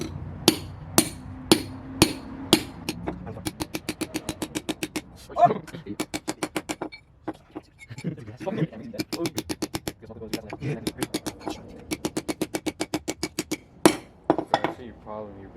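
Custom hood support for a Nissan 240SX being hammered into place, bursts of rapid sharp metallic strikes in quick rhythmic runs, close and ringing, separated by pauses with someone talking in between.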